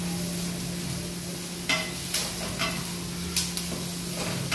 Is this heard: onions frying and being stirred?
yes